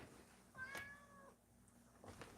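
A house cat meows once, a clear rising-and-falling call close to the microphone, with a faint background hum and soft clicks before and after.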